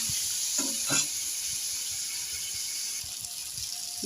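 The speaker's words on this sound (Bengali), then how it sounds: "আমার মশলাটা ভালো মতন কষানো হয়ে গেছে।" Spice masala with cumin powder and a little chilli powder frying in a pan gives a quiet, steady sizzling hiss throughout, with a few faint clinks near the start.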